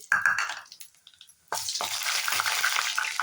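Whole spices such as bay leaf, cinnamon, cloves and fennel drop into hot oil for a raw banana fry. There are a few soft clinks first, then a sudden steady sizzle that crackles on close by.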